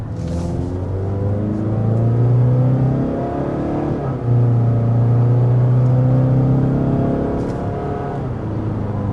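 A 2026 Mazda CX-5 Select accelerates under partial throttle, its engine note a steady, loud rumbling drone that climbs in pitch, dips briefly near the middle and rises again, with no talk over it.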